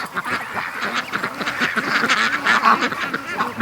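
A flock of free-range ducks quacks loudly and continuously near a lake, overlapping calls crowding together in a dense, noisy chorus close by.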